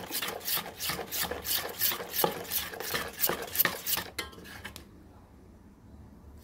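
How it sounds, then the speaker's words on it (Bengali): A whisk beats banana flower pakora batter colored with Kashmiri red chili powder in a bowl, fast rhythmic scraping strokes up close that stop abruptly near the end, leaving quiet. "এবার ভালো করে ফেটিয়ে নেব।"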